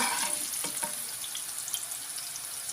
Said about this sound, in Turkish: Kabakları kızarıyor. Bu arada patlıcanlarım da kızardı.